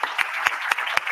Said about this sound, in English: Can we clap for that, please, family?